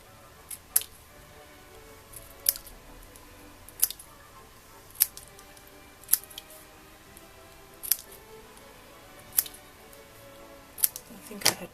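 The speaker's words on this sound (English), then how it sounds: "Cut the single petals apart." Scissors snip apart the single petals of a paper-craft flower, giving about nine crisp, close cuts spaced roughly a second or more apart over a faint, quiet background.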